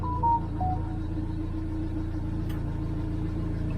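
A Morris Minor's engine idles steadily while warming up after sitting for over two decades, a low, even rumble close by with a couple of brief beeps at the start.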